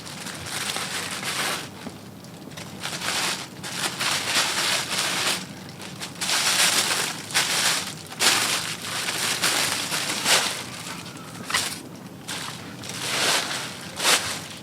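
Glossy packaging around a pair of Pleaser ADORE-708LG blue holographic glitter 7-inch high heel shoes crinkles and rustles as it is handled, close and steady, with sharp bursts of crackling throughout and no talking.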